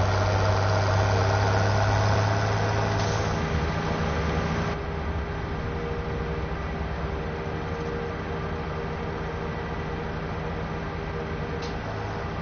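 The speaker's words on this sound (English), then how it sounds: "Lamborghini tractor." A Lamborghini tractor in a video game idles with a steady, loud mechanical hum and a low throbbing drone, which drops a little in level partway through and then holds evenly.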